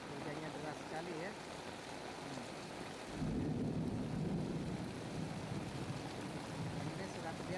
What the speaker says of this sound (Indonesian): hujannya deras sekali ya